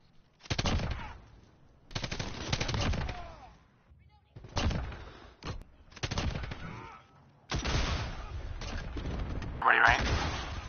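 Bursts of automatic gunfire from Call of Duty multiplayer come in several loud, rapid-fire volleys separated by short pauses, with people talking over part of it.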